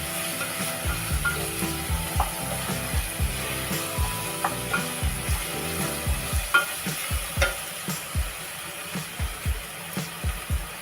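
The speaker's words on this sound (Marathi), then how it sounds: "टोमॅटो जोपर्यंत मऊसूत होईल तोपर्यंत आपल्याला शिजवून घ्यायचं आहे." Chopped tomatoes fry in a pan for a homemade chicken biryani, with a steady sizzle under repeated scraping, stirring clicks of a spatula every half second or so, close and moderately loud.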